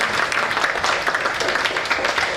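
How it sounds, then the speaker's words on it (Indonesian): An audience at an Indonesian performing-arts discussion applauds two speakers with a continuous, even wash of clapping from a roomful of hands, no voices. "boleh tepuk tangan dulu untuk dua narasumber kita"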